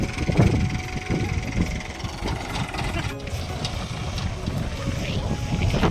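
A tractor engine idles with a low, steady rumble throughout, mixed with wind buffeting the microphone and occasional background voices.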